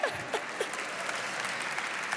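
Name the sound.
audience applause at a Creole Christmas event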